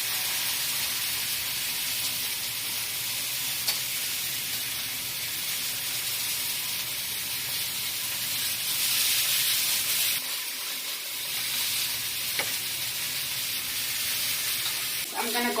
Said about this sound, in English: I'm going to put them in here at real high sear